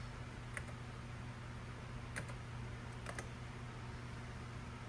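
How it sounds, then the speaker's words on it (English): Faint, sparse keystrokes on a NeXT cube computer keyboard, a handful of soft clicks spaced irregularly over a steady low fan hum. "I'm going to type in halt"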